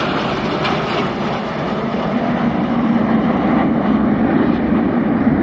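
Red Arrows jets performing the rollback manoeuvre at the RIAT air show, a steady broadband jet roar overhead, loud and continuous and slowly swelling.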